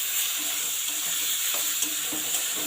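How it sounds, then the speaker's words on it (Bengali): Onion, garlic and ginger paste frying with soya chunks in a pan, a steady bright sizzle with soft scraping stirs at intervals, close and moderately loud, no talking. "এটা 5-7 মিনিট এইভাবে কিন্তু মশলাটা ভালো করে কিন্তু সয়াবিনের সাথে কষে নিন।"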